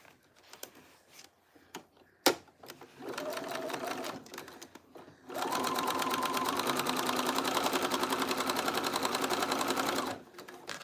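A sewing machine stitches fabric onto sticky canvas in a quiet room, a few scattered clicks and a short run before a sustained, evenly pulsing stitching run that stops abruptly.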